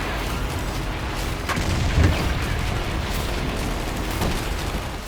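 Heavy gunfire rattles in a clash between Israeli soldiers and Hamas fighters in Tulkarm, with dense, continuous shots and a deeper boom near the middle echoing over a noisy outdoor background.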